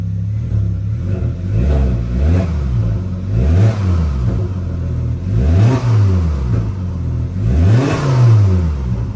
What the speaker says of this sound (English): I'll give you guys a few revs